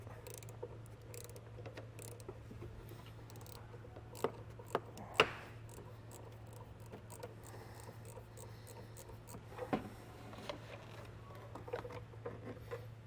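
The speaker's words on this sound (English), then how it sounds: "Basically just use a ratchet and take your time." A hand ratchet slowly loosens a 10mm plastic bolt on a 2023 Jeep, producing faint, sparse clicks and a few sharper ticks over a low steady hum, with no talking.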